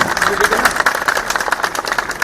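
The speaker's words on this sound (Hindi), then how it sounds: "सब अपने लिए पहले एक बार जोरदार तालियां हो जाए" A crowd at a political gathering claps loudly and steadily, a dense run of close hand claps that carries on without a break for the whole stretch.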